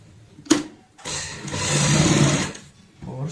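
A sewing machine stitches a ladies' bag, with a sharp click, then a short whirring run of about a second and a half, loud and close, followed by a quiet pause before it starts again.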